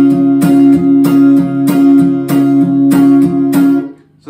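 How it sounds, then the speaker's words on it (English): A repeating lead guitar riff of sustained tones with sharp attacks roughly every half second, steady and loud, looping several times before cutting off near the end. "I'll start with the lead guitar riff that we hear at the beginning"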